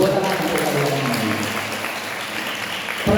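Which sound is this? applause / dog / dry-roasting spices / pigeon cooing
applause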